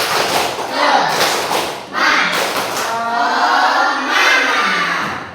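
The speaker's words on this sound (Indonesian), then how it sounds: "Tepuk semangat." Schoolchildren in an Indonesian primary classroom perform the tepuk semangat spirit clap, a loud patterned burst of group claps with a brief pause, mixed with children's voices calling out together.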